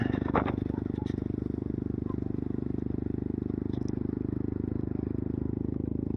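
A motorcycle engine drones steadily while riding in Kodaikanal, heard from the pillion seat, with wind rumble and occasional rattles throughout.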